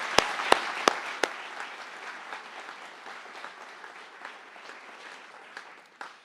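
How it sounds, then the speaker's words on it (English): Audience applause for Year 13 leaders at a college honours ceremony, opening with a few sharp loud claps before settling into steady, dense clapping from a crowd that tapers off at the end. "Let's give them a big round of applause."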